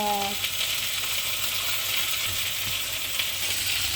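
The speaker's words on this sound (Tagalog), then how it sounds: "igisa ko talaga siya kasi pag hindi siya igigisa" Tomatoes sauté in a hot pan with a steady, dense sizzle that holds at an even loudness throughout, close by, with a brief voice at the very start.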